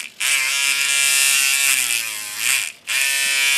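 A Hummingbird rotary tattoo machine, a knockoff fitted with an added tensioner spring, runs with a steady high-pitched electric whine that drops briefly and then picks up again, close and loud with no talking.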